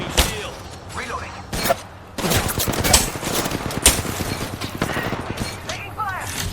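Video game gunfire in a match of a shooter: bursts of rapid automatic fire and sharp individual shots, loud and close, mixed with thuds and busy game effects, with voices talking over parts of it.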